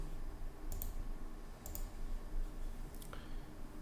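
A few sharp clicks from a computer mouse, arriving in quick pairs spaced roughly a second apart against a faint steady room hum.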